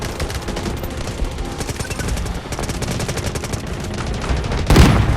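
Rapid automatic gunfire rattles continuously in the shooter Delta Force, loud and dense bursts with a heavier blast near the end.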